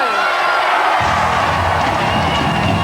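A wrestling arena crowd rises for Eddie Guerrero, a loud, swelling roar of cheers that builds partway through as the audience gets on its feet.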